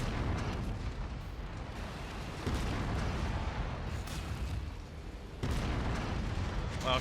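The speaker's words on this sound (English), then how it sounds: "Major explosion imminent." Major explosion in a mech combat video game, a dense, continuous rumbling roar with heavy low-end booms swelling in two surges, loud and close throughout.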